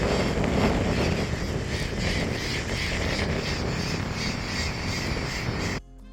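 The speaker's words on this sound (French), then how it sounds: "Après avoir admiré les vols de perroquets verts" A flock of green parrots on Argentina's east coast near El Condor squawks in a dense, loud, continuous chorus of overlapping harsh calls. The chorus cuts off abruptly just before the end.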